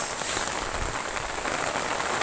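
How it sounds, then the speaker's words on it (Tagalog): Steady rain falls in a constant hiss, a dense wash of drops on a surface that holds even throughout, with no voices. "ito na po yung ulan"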